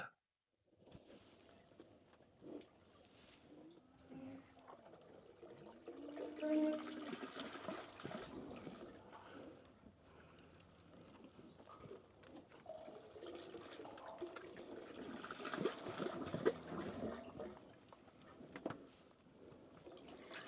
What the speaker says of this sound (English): Can hear the water moving up the pipe.